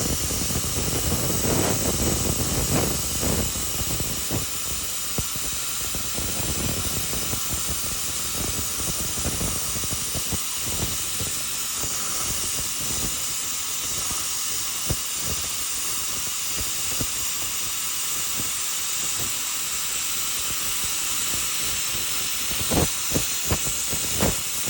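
A steady, loud hiss and sizzle runs throughout, with crackling bursts of a YesWelder plasma torch cutting through metal in a garage.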